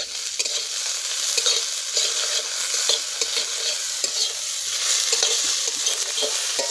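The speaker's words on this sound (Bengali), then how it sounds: "এবার ভালো করে একবার নেড়ে নেবো।" Egg and potato bhurji being stirred in a frying pan, with a steady bright sizzle and repeated scraping strokes of a spatula running continuously throughout, close and moderately loud with no voices.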